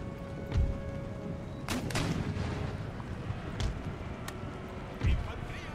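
Artillery and musket fire in the Empire Total War video game: scattered booming cannon shots and sharp cracks over a rumbling battlefield bed, several distinct blasts spaced a second or more apart, moderately loud.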